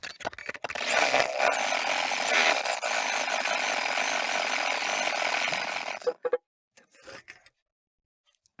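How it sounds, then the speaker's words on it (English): A machine embroidery unit stitches two ivy leaves in green thread, a loud, continuous whirring and rapid needle chatter lasting about six seconds before stopping abruptly, followed by a few short mechanical clicks and silence. "The two ivy leaves have now been sewn"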